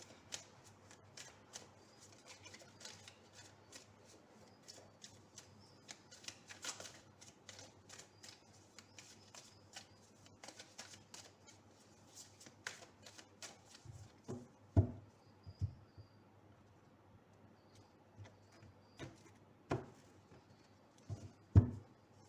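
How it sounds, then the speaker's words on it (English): Tarot cards from a Universal Waite deck are shuffled and drawn by hand, a long run of soft riffling patter and ticking flicks, close and fairly quiet, ending in a few sharper taps as cards are laid down. "Now we'll take out four cards from the Universal Weight Tarot."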